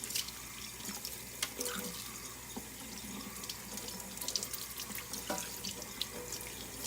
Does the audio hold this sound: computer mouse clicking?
no